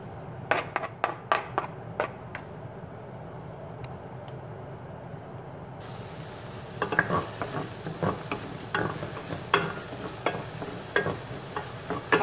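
Onion and garlic frying in oil for vegetable rice, a soft sizzle with a few sharp clicks early on, then louder busy crackling and spatter after the ingredients go in, close up with no talking.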